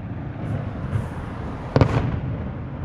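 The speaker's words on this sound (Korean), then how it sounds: "맞은편 티볼리 놀이공원에서 폐장 시간에 맞추어 불꽃놀이를 하는 걸 보았습니다." Fireworks at Tivoli amusement park in Copenhagen at closing time, heard at a distance as one sharp burst with a short crackle over a low outdoor hum.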